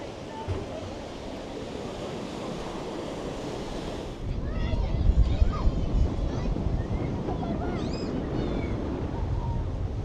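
Wind gusting across the Southwold seaside coast by a pier, a steady broadband roar that strengthens and grows louder and rougher around midway, with surf-like rushing and some microphone buffeting throughout.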